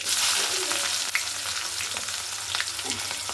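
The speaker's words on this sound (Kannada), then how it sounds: "ನೋಡಿ, ಈರುಳ್ಳಿ ಎಲ್ಲ ಫ್ರೈ ಆಗಿದೆ." Onions for tomato gojju fry in a pan with a bright, close, continuous sizzle, broken by a few light stirring clicks, with no talking.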